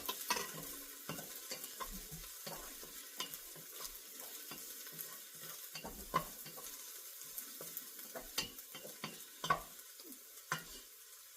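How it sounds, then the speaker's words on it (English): Garlic sizzles steadily in a soup pot of browning pork for tamale soup, a continuous close frying hiss broken by occasional sharp clicks and spoon stirs, with no one talking. "as soon as I get the garlic a little bit sauteed here"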